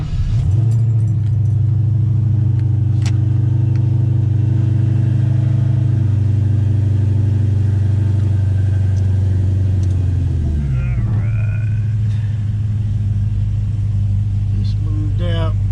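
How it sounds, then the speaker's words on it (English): A loud Coyote V8 engine rumbles steadily at a fast idle up close on a cold start, then the pitch drops as it settles lower; faint jingling sounds near the end. "Coyote cold start in 3,"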